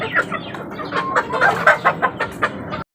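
Four pet chicks drinking vitamin water, chirping and clucking in quick, bright bursts close by, fairly loud and steady before cutting off abruptly.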